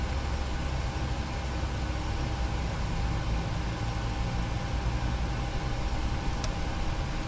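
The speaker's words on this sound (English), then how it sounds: "You can hear the engine starting up outside." Boeing 737 NGX jet engine spooling up during startup in a flight simulator game, a steady low broadband roar and rumble with a faint high whine, continuous and even throughout.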